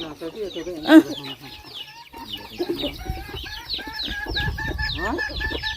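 A bantam chicken clucks repeatedly at close range in a rural farmyard, with sharp calls and busy bird chatter, while people talk over and between the clucks.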